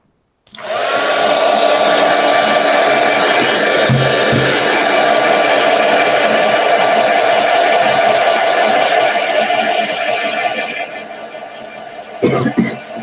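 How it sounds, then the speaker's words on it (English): A heat gun blasts hot air over polymer clay with a loud, steady whirring roar and a faint high whine, running continuously for about ten seconds before easing off, followed by a few soft knocks. "use the heat gun, but I moved the camera farther away because I don't want it to be affected by the heat gun"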